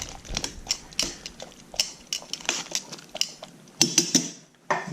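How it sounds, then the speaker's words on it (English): Vegetables and garlic being stirred into a pot for chicken and dumplings, heard as a run of close metallic scrapes, clinks and taps of a utensil against the pot, irregular and fairly loud with no talking. "take our vegetables and our garlic and add it to the pot. We'll work that in there on the sides."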